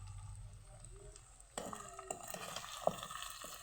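Local chicken fries and sizzles in a pan as ginger garlic paste is added and stirred in, a quiet hiss that turns louder with clattering stirring sounds and a sharp utensil tap partway through.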